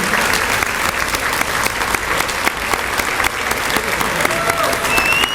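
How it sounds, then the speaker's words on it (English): A crowd at a regional law enforcement awards ceremony gives sustained, loud applause, dense clapping running steadily throughout with no pauses. "Give them a big round of applause."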